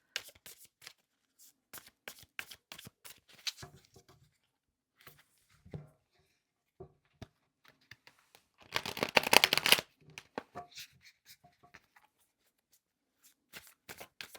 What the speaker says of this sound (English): we'll just give it a couple more shuffles.